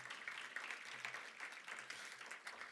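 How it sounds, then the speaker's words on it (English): Convention audience at a Latino civic gathering clapping in a sustained, even round of applause, faint and distant, with no voices over it. "you should all give yourselves a round of applause for being here"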